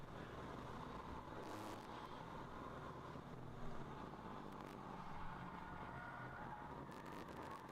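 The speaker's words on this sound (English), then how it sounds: "Lots of tire noise there." Tires of a race car running wide racing tires roll on the track during a ChampCar endurance enduro at Harris Hill Raceway, a continuous low, distant roar with a wind-like hiss and no voices.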